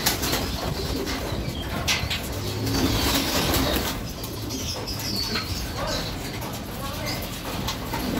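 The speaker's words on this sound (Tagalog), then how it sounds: "Yung mga ibon, nagiinis." Pigeons flutter and coo around a loft at the last lap of a derby race, with wings flapping on and off, soft chirps and nearby people talking.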